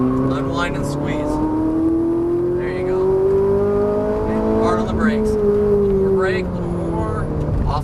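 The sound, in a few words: Ferrari 458 Italia engine revving on race track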